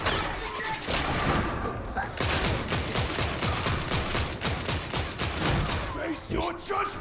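Loud rapid volleys of gunshots in the video game Darktide, dense repeated cracks and thuds with brief pauses, heard alongside someone talking.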